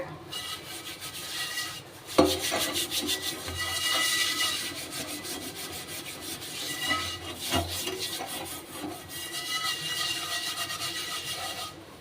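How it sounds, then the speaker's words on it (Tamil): Steady, gritty scrubbing of a rusty iron pan, continuous rasping strokes with a couple of louder clanks, close up and with no talking. "இப்போ ஸ்க்ரப் பண்ணி விட்டுக்கலாம்"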